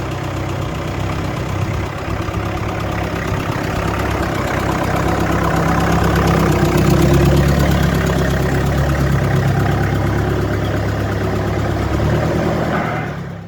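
Ford 3000 tractor engine idling steadily at close range, a continuous low rumble with a faint knocking pulse that holds level for over ten seconds before cutting off.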